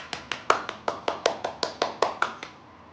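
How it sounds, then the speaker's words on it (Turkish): Hands clap a steady beat of about a dozen sharp, evenly spaced claps in a children's song, close and clear with no voice over them. "Hadi babaya da alkış yapalım. Alkış."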